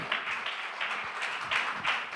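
A church congregation claps hands in praise to God, a steady patter of many hands at moderate distance, rising and falling in loose bursts without a firm beat.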